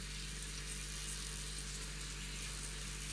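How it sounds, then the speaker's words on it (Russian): Food sizzles and fries on an electric raclette grill, a steady, close crackling hiss that holds evenly throughout with no voices. "Так жарится довольно-таки быстро."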